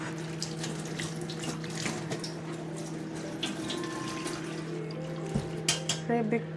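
Tap water runs steadily into a sink as food is washed for soup in a home kitchen, a constant close splashing stream over a low hum with a few light clinks near the end.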